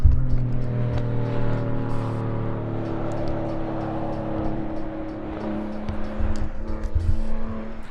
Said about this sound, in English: when a 911 rips past, you have to look